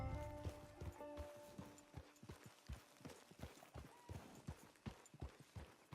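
Horse hooves clip-clop at a steady trotting rhythm in the Red Dead Online video game, close and fairly loud over a low ambient music bed, with distinct repeated hoof strikes throughout.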